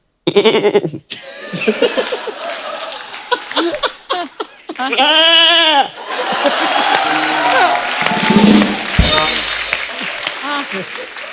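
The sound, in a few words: person imitating goats bleating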